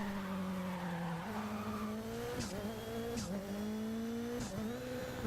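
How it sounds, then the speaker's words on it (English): A loud, steady rally car engine in DiRT Rally 2.0 drones on continuously, its pitch dipping briefly at gear shifts, with short tire squeals along the way. "Cars sound a lot meatier."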